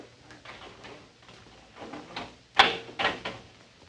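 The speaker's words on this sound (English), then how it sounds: "I'll get the door." A door is opened in an old-time radio drama set near prison cell blocks, heard as a few soft rattles and scrapes that build to a sharp latch click and clunk near the end.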